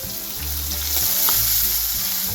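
Chopped onions hiss in hot oil tempered with mustard seeds, cumin, asafoetida and garlic for sambhar, a loud steady close sizzle that swells slightly as they go in, without speech.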